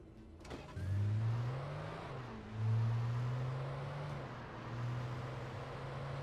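A car engine in the video game Alan Wake drones low and steady, rising in a few revving surges as the vehicle is driven, with no talk over it.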